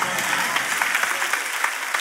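A church congregation applauds at a sermon, dense clapping across the whole span that stays fairly steady and full rather than clearly tapering.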